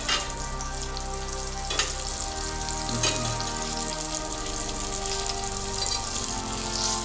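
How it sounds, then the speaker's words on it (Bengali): Hilsa fish coated in turmeric sizzles steadily in hot oil in a pan, a close, continuous crackle with a few louder spits and pops; nobody speaks. "আচ্ছা, আমরা হালকা করে ভেজে দেবো"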